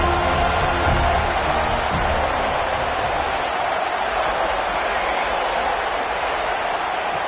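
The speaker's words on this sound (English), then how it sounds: "Here comes the crowd noise trying to help this defense out." A stadium crowd at the Rose Bowl football game roars to rattle the offense, a loud, steady wash of massed voices with no break throughout.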